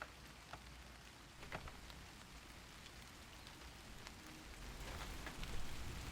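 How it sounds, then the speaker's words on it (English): Steady rain falling outside, a continuous hiss with scattered drops pattering on surfaces, fairly soft and even throughout. "it just started raining again like 2 seconds ago"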